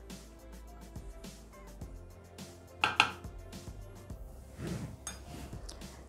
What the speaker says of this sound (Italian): Riuniamo sul fondo del boccale con la spatola.